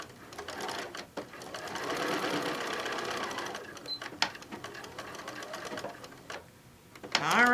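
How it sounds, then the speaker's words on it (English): Serger sewing machine stitching an apron panel, a rapid mechanical whirring rattle in bursts that start and stop, with brief pauses and handling noises between runs. "When I flip it up, I try to have the serger just nice and flat."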